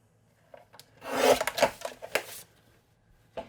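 A Tim Holtz paper trimmer slices a piece of black cardstock with a quick close-up scraping rasp of the blade along the sheet, framed by a few light clicks and taps, with no talk.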